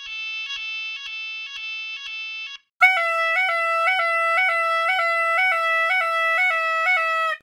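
Pulsing electronic tones from cheap musical instruments mimic a fire alarm, a higher beeping pattern giving way after a short gap to a louder, lower repeating alarm-like beep.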